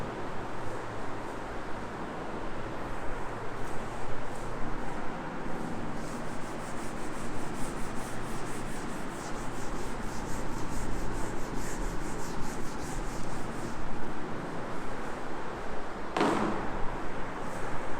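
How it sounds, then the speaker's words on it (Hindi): A steady, continuous rubbing on paper as part of a human heart diagram is erased, an even scraping texture running throughout with a brief sharp knock near the end. "अभी मैं इस पोर्शन को रब करता हूँ।"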